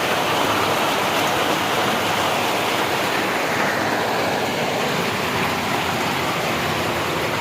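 Heavy rain falls steadily at a rural home with a cattle shed, a dense, even roar of broadband noise that runs unbroken throughout with no voices.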